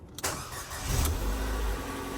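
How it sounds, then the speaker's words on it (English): A Ford Fiesta 1.6 Ti-VCT engine cranks briefly and catches, then settles into a steady, close-up idle with a low rumble. "now I'm gonna start the car, and I'm hoping it starts, of course"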